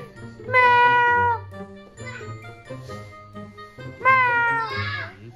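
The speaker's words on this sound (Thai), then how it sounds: "แมว" A cat gives two loud, drawn-out meows close by, separated by a pause filled with softer sounds and a faint jingle.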